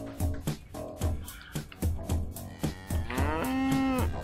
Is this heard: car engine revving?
no